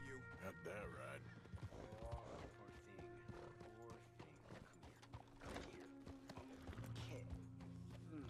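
Horse hooves clip-clop and a horse whinnies in Red Dead Redemption 2 while a blacksmith changes a horseshoe, mixed with steady game ambience and some talk throughout.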